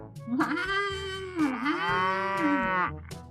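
A cow moos twice in long, drawn-out calls, the second one sustained and rising before trailing off, close and loud with no other sounds around it.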